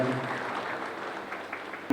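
A crowd claps for an honoured guest at a Swachh Bharat cleanliness ceremony in Chhota Udepur district, producing a short, even patter of applause that ends with a quick louder knock.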